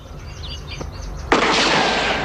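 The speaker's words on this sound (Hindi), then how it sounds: "ये गोली की आवाज, ये किसने गोली चलाई?" A sudden loud gunshot cuts in partway through, followed by sustained noisy rumble, after quieter background with faint chirps.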